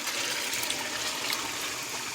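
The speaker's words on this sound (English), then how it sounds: "add some water to the pot" Water pours steadily into a cooking pot for oxtail, making a continuous hissing splash that stays even throughout, close and alone.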